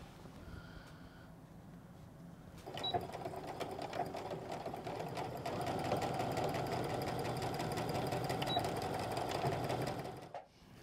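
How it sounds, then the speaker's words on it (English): A sewing machine stitches front and back facings of pull-on pants together, starting after a short quiet lead-in and running as a steady, rapid mechanical whir and tapping for several seconds before stopping abruptly. "so now I'm going to stitch them to each other, matching the notches"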